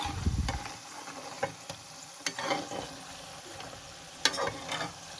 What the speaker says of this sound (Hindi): ये जो तिल कड़ है ये हमने एक साइड से फ्राई कर लिए हैं, दूसरे साइड भी हम इनको अच्छे से फ्राई कर लेंगे क्रिस्पी होने तक